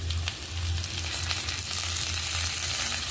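Fried potatoes and green peas are stirred in a frying pan, giving a steady close sizzle with soft scraping under it for about three seconds, and no voices.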